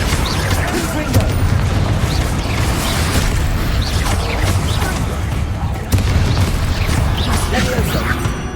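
Confringo blasting spells from Hogwarts Legacy burst repeatedly in a busy fight, a dense run of booms and crashes mixed with other spell noises, while a voice talks over the action.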